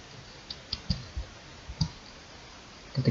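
Keys tapped one at a time on a computer keyboard while entering a spreadsheet formula, giving soft, close, irregular clicks with short pauses between them, with no one talking.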